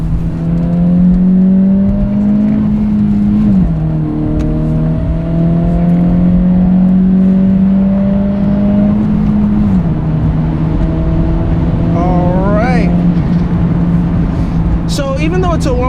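A 2023 Acura Integra A-Spec with a 1.5-litre turbo and six-speed manual accelerates with a steady, loud engine drone. The pitch drops twice as it shifts gears, and someone talks over the engine.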